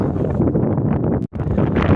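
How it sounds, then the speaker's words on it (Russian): Strong wind buffets the microphone in a constant rumbling roar, briefly dropping out for a moment before gusting back. "Ветер мешает, конечно, копать. Иногда стихает, иногда такие порывы снова всплывает."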